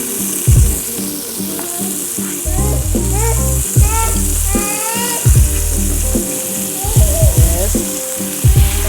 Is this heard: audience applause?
no